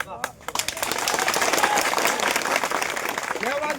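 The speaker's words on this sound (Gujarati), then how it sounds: "તાળી પાડો છો" A crowd at a political gathering breaks into applause that swells and holds steady, with a voice heard faintly at the start.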